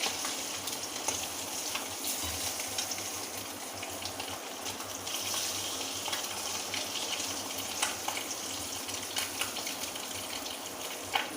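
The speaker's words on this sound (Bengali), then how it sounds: "পুরো ডিমটা এইভাবে লাল লাল করে ভেজে নেব" Eggs frying in a pan until browned, a steady soft sizzle and bubbling with occasional light stirring clicks, close and moderately quiet with no talk.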